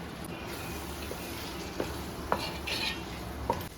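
Cooked beef added to a frying pan for Kerala-style beef varattu, stirred with a spoon: steady sizzling with scraping strokes and a few sharp clinks against the pan.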